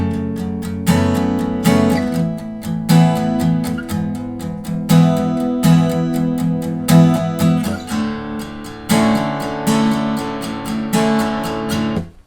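Acoustic guitar strums through the first four verse chords of a song's acoustic version, with a punchy accented strumming pattern, close and loud with no talking.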